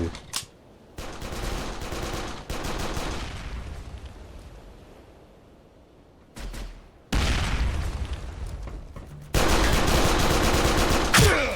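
Automatic gunfire in a shooter video game comes in several rapid bursts separated by quieter gaps, with the last bursts loud and sustained and some heavier booms mixed in.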